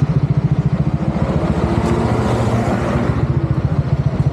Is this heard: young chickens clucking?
no